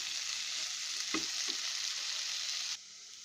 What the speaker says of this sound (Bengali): এখন নাড়াচাড়া করে দিচ্ছি